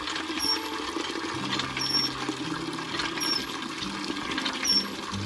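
Water gushing hard from an old leaking pipe at a house under construction, a steady, loud broadband rush filling the whole clip.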